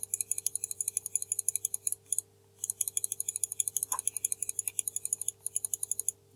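Rapid, steady typing on a computer keyboard in a quiet room, close-up key clicks in long runs with a couple of short pauses.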